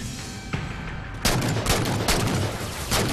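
Gunfire in the Halo 4 video game, a quick single shot followed by a loud sustained burst of rapid automatic fire and booming impacts, close and dense with no talk.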